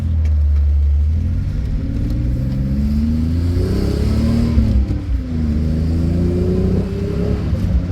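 A 1994 Chevrolet Cavalier Z24 convertible with a 3.1 liter V6 and five-speed manual, its exhaust droning steadily while driving, engine pitch rising and falling with gear changes, loud and close with no talking.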